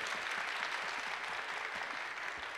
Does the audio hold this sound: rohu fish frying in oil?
no